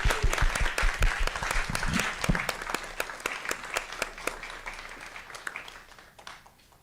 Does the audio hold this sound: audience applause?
yes